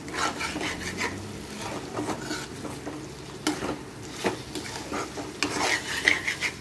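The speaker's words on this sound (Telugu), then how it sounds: "ఇది కూడా ఆయిల్ సెపరేట్ అయ్యే వరకు కలపాలండి" Mutton curry being stirred in a pot until the oil separates, a spoon scraping and clinking against the metal in irregular strokes over a soft sizzle, close up with no talking.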